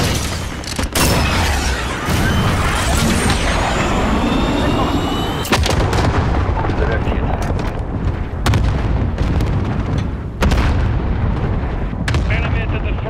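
Air strike explosions in a video game boom loudly in repeated heavy blasts and rumbling impacts, with sharp cracks scattered through a sustained din and a voice speaking at times.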